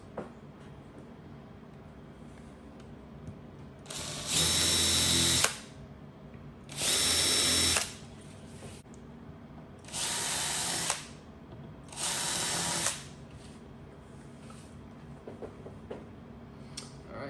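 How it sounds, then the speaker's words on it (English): A power drill breaking the surface of screw holes runs in four short, loud, whining bursts of about a second each, separated by pauses of quiet room noise, with no voices. "That's all the holes that I need to kind of break the surface on."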